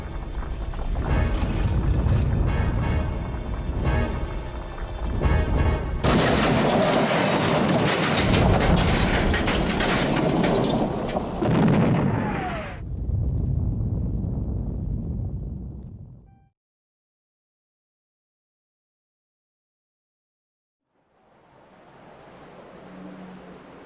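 Boulder, a rolling rock in classic Thomas the Tank Engine, rumbles into Percy at the yards: a long, loud, dense roaring crash that swells and grinds for several seconds before cutting to silence, then a faint low rumble returns.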